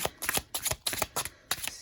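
Tarot cards being shuffled in quick riffling bursts, several rapid crisp flutters with brief pauses between, close and fairly loud.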